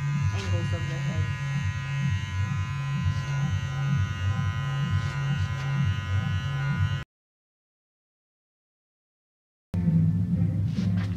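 Wahl clippers with the lever closed trim stray lines around the angles of the head, their close, pulsing buzz running steadily before a sudden silence, then resuming briefly, with a voice talking over it.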